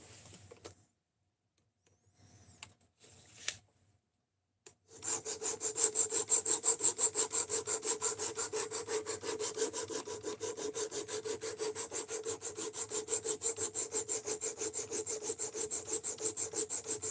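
An abrasive tool is worked across wood during knife making, starting after a few quiet seconds broken by brief knocks, then settling into a fast, even run of close rasping strokes that continues to the end.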